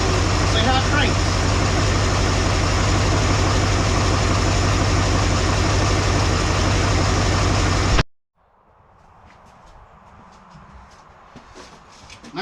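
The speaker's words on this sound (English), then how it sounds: "then fire it back up and see how it cranks." A 1958 Dodge Coronet engine runs at a loud, steady idle for about eight seconds, then cuts off abruptly, leaving faint background noise.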